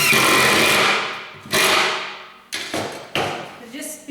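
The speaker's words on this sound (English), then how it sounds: "I sure like this little 12-volt DeWalt I have" Small 12-volt DeWalt power tool removing a part from a raccoon-to-log base project, giving several loud bursts that each start sharply and fade, with brief gaps between them.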